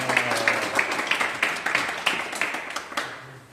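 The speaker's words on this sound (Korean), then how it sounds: "우리 박수로 맞이합시다" A small group claps to welcome a guide at the Confucian Culture Museum of the Korean Studies Advancement Center, about a dozen distinct, fairly close claps in an uneven rhythm, brief and fading at the end.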